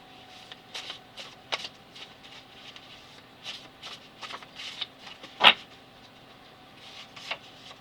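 Tarot deck being shuffled by hand, a quiet series of soft papery riffles and taps at an irregular pace, close by, with one sharper snap partway through.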